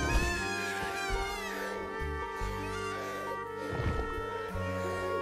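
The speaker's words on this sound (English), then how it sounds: "A lone hatchling cries into silence." A dinosaur hatchling's drawn-out, wavering cries rise and fall over a low, sustained tonal drone, with a couple of louder calls standing out, heard alone.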